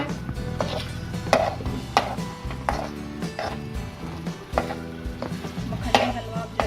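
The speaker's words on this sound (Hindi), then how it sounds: "अब हल्की आंच पर इसकी भुनाई करते रहना है।" Makhandi halwa roasting in a silver kadhai on a low flame, a spoon scraping and knocking against the pan in an irregular repeating rhythm, close and fairly loud.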